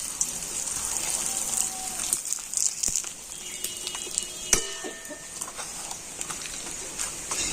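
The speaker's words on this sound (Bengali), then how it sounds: "তেল গরম হয়ে গিয়েছে আর এখন আমি পাঁপড়গুলো ভেজে নিয়ে" Papads frying in hot white oil in a wok, a close crackling bubbling sizzle with scattered sharp pops and brief clicks throughout.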